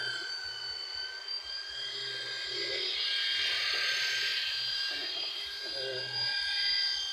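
A drill bores into a concrete house pillar, a high whining grind that holds steady and swells slightly louder midway, close by, with people talking faintly underneath.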